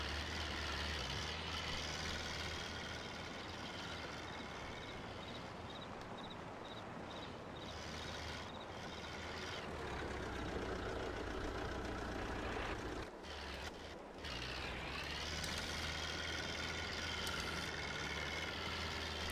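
A heavy tractor engine straining under load in Farming Simulator 22 with an Indian mod, a loud continuous low diesel drone that holds steady for the whole stretch with a brief dip near the end, no voices.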